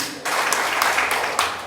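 At a political party seminar, a room full of people breaks into applause: a sudden onset of dense, crackling clapping that holds steady and loud, with a few sharper bursts scattered through it.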